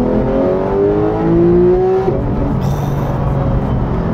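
Porsche 911 GT3 of the 991.1 generation revving its engine, a loud, close rising wail with strong harmonics that climbs for about two seconds, then drops to a rougher lower roar as a brief metallic edge appears.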